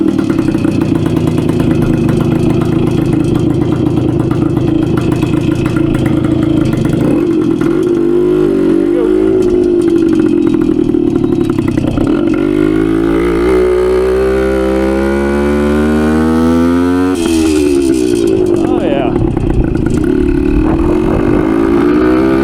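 A 1971 Yamaha AT1 125cc two-stroke motorcycle, its freed timing advance plate repaired, runs loud and close, idling with a steady buzzing rattle, then revving up and falling back in several rising and falling sweeps.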